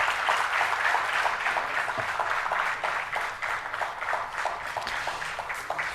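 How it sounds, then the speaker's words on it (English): An audience applauds an award winner at an entrepreneurs' day ceremony, a steady wash of many hands clapping with faint voices in the hall beneath it. "First class, a great round of applause."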